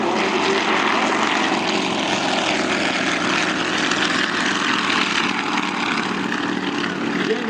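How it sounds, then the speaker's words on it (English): A formation of propeller airplanes from an air show team takes off, a loud, steady engine roar filling the air continuously with no letup, close to the listener. "So there's 3 off the ground, and the final 2 give us our 5 ships in the air."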